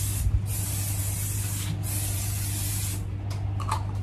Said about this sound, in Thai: ก็จะใช้สเปรย์ เคลือบด้านนะคะตัวนี้สามารถใช้ได้ทั้งกับมอไซค์แล้วก็จักรยานได้เลยนะคะมาพ่นกันเลย